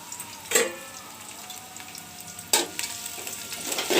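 Onions fry in oil with bay leaves, cinnamon, green and black cardamom and cloves, a steady close sizzle broken by two sharper bursts of stirring.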